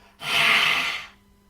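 A single Ujjayi exhale pushed through a constricted throat during chair yoga, a close, breathy hiss lasting about a second that rises quickly, holds and then fades.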